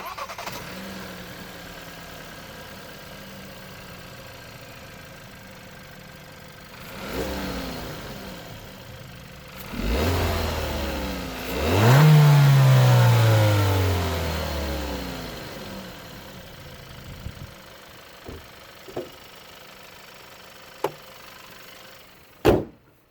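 A Hyundai Tucson N Line with a 177-horsepower 1.6 T-GDI turbo petrol engine cranks and fires up, then revs up loudly and settles to idle, followed by a few sharp clicks near the end.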